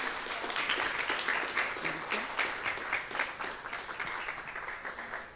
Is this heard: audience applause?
yes